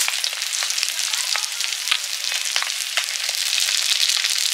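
Dried red chilies and whole spices sputter in hot oil for tempering, a bright continuous sizzle with frequent sharp crackles and pops, close up and uninterrupted by voices.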